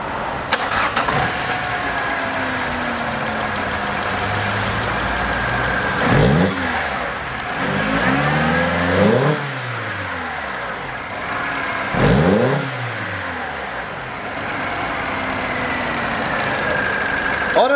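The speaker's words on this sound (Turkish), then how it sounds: "Öncelikle aracımıza marş yapıyoruz. Bir sesini duyalım." A Peugeot 308 with a 1.6 VTi petrol engine is cranked and fires up, then idles loudly and close, with two sharp revs near the middle and end of the clip.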